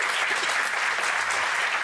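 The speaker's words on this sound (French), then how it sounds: "Je voudrais qu'on l'applaudisse fort." A studio audience applauding loudly and steadily in a dense burst of clapping that fills the whole short moment, with no voices over it.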